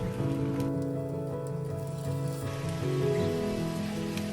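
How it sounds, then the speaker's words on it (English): A spring roll sizzles in two tablespoons of avocado oil over medium heat, giving a steady, dense crackle like rain on a surface that continues without pause and with no talk. "With 2 tablespoons of avocado oil, fry the spring roll over medium heat."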